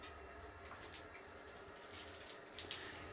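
Hot water from a shower heated by a biogas heater runs in a steady hiss, fairly faint, with small splashing bursts and no talking.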